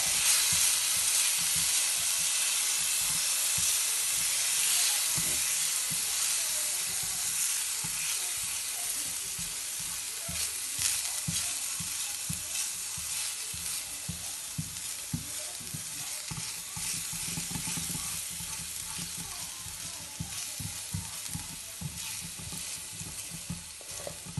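Garlic frying in a pan for a quick vegan recipe gives a loud, steady sizzle that holds for the whole stretch with no voices.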